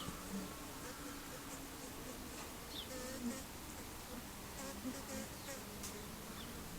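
Honey bees buzzing around an open top bar hive during an inspection, a faint, continuous droning hum with individual bees passing close now and then.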